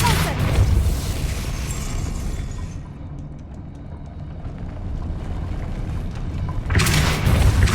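In Hogwarts Legacy a Repulsor spell blast lets out a loud, booming whoosh that fades into a rumble, then swells again into a second burst at the end.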